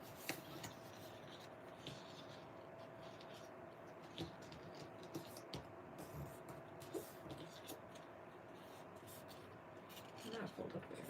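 Bone folder creases a sheet of craft paper, making faint, soft scraping and rubbing strokes with a few small taps, quiet and close, with faint talking in the background.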